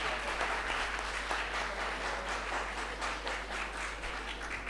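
An audience applauding at the opening ceremony of a literature festival, a dense, even roar of many hands clapping that stays loud and continuous from start to finish.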